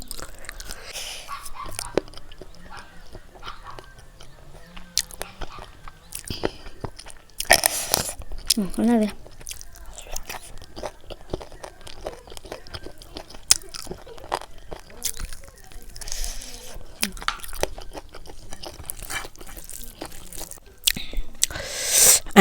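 Close-up chewing and crunching of spicy pork curry with rice and Naga chilli, with wet mouth sounds and bites scattered irregularly, with occasional quiet voices.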